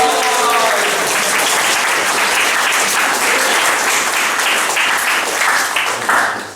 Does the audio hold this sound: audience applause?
yes